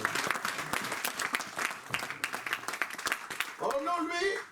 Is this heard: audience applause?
yes